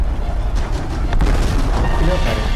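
An explosion rumbles in the Tomb Raider Definitive Edition game on PS4, a deep boom and crackle that stays steady over game noise while someone talks in Italian.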